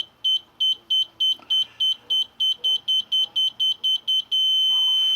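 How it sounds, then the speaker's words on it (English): The 1998 Lincoln Mark VIII air ride height adjustment tool gives a high-pitched electronic beep. It pulses in rapid even bursts, then turns into one continuous tone near the end, loud and alone. "And when it gets to the steady beep, that is the trim position right there."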